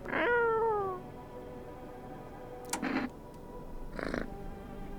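A video game cat lets out one loud, close meow with a falling pitch, followed by two softer, shorter sounds a few seconds apart against a quiet background.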